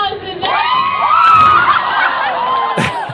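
A studio crowd at a Halloween special morning show cheers, whoops and shouts excitedly in a loud, close burst, with voices rising over the noise.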